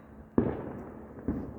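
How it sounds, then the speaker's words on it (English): Small ground fireworks on a Fourth of July night, two sharp cracking pops about a second apart at moderate distance, each trailing a brief rumbling echo. "it must be just the small fireworks that don't go up in the sky"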